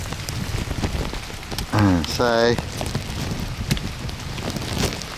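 Steady outdoor rain patters and crackles close to the microphone in a park, constant throughout, with a brief spoken word partway through.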